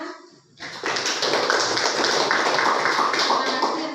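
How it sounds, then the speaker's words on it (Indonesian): A group claps hands in applause after a brief quiet start, a dense, sustained patter of many hands that stays fairly loud and steady before easing slightly at the end. "tepuk tangan."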